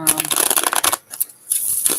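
Tarot cards being shuffled by hand in quick riffling bursts, a close papery flutter that pauses briefly midway and then resumes, with a voice speaking over part of it.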